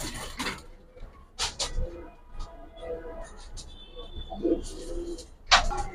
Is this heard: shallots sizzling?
no